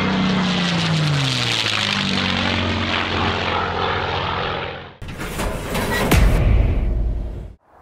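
P-51 Mustang propeller fighter aircraft flying past, a loud near engine drone with falling pitch for several seconds, then a sharp change to a roaring, gusting burst before cutting off.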